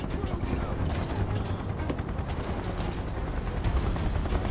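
Sustained gunfire in the Final Fantasy VII Remake game, a dense, continuous rattle of shots under a steady, noisy battle bed with some voices mixed in.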